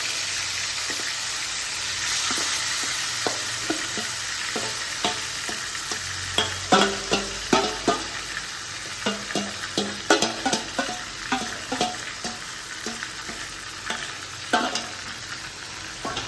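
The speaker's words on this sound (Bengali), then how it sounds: "এখানে মা একটু আলুও দিয়েছে, প্রচণ্ড তেল ছিটছে।" Potatoes frying in a pan of hot oil, with a steady loud sizzle and frequent sharp splattering pops that grow denser midway, close up and without talk.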